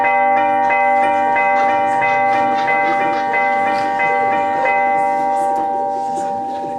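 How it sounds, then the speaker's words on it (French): Church bells ring steadily in a repeated, resonant pattern, loud and sustained with overlapping tones throughout. "Vous devez sonner les cloches"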